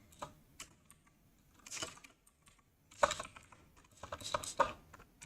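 Fingers tap a computer keyboard at a game-development desk, with quiet irregular clusters of keystrokes and short pauses, some taps sharper and louder than others.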